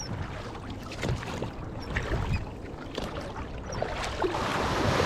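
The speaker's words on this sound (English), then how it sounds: "Successful dinghy landing." A dinghy coming ashore on a beach, with water swishing, hull scraping and splashes up close, some wind in the background and gently rising noise toward the end.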